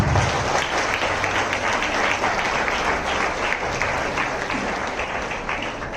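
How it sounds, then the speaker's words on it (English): Audience applause at a college graduation day ceremony, a dense, steady wash of many hands clapping at full strength, sustained for the whole stretch without a break. "Can we have a huge round of applause"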